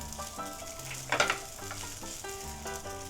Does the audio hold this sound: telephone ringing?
no